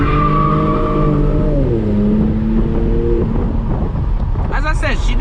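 An Infiniti Q50 drifting, with a loud engine roar and wind rush, a long tire squeal whose pitch wavers and dips, then a whooping voice breaking in near the end.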